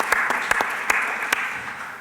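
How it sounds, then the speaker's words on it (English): Audience applause at a panel on drug development from human data: a short stretch of crowd clapping with a few distinct sharp claps standing out over a steady wash. "I would like just to give him and to hold him a good round of applause."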